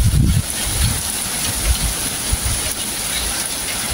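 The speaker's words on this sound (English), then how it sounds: "It's raining." Rain falls in Malta as a loud, steady broadband hiss with gusty wind buffeting the microphone, and a few low thumps at the start.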